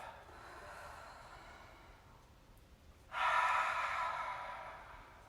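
A cleansing breath during a yoga class in mountain pose, a soft airy inhale followed by a louder, longer exhale through the nose or mouth, close and alone.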